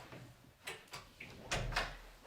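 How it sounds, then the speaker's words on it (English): A door is pushed shut indoors, with a few soft knocks and scrapes building to a fuller thud near the end, quiet and close. "Shut the door."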